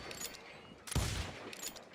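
A single sharp gunshot bursts out against steady background noise, with faint crackling before and after. Synthetic and game-like, with no voices.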